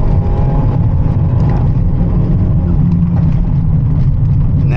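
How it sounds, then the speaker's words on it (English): Manual Hyundai Elantra N held on the brake while brake boosting before a launch, its engine droning loud and steady at high revs with a dense, constant low rumble throughout. "You gotta be ready for that shift. It comes up, you're about to go, you're brake boosting."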